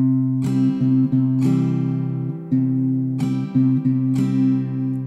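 A slow acoustic guitar strumming pattern for a song: sustained chords with a few clear strum accents spread unevenly across the bar, close and moderately soft, no voice.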